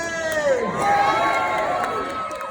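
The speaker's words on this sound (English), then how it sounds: "How about a little cheer? Everybody go, yay!" A street performance audience in London's Theatre District lets out a loud, brief group cheer of 'yay', many voices rising together and then trailing off.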